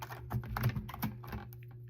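Keys pressed on a ThinkPad T440p laptop keyboard, a short run of soft, irregular clicks close by in a quiet room.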